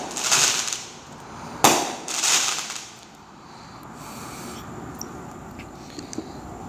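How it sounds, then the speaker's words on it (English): Fireworks crackle and pop in sharp bursts, a few loud cracks early on followed by fainter scattered pops and rumbling in the distance. "Doing a lot of fireworks today."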